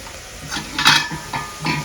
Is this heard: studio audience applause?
no